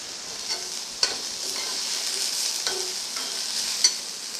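Fresh curry leaves dropped into softened onions frying in a pan for a radish poriyal, a steady crackling sizzle with a few sharp spatula clicks and stirring scrapes.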